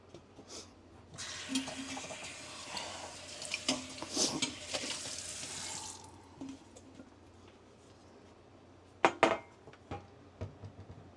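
Splashy running water pours over a cooking tray for a Ninja Combi cooker for several seconds, then stops, followed by a few sharp clanks and drips as the tray is handled.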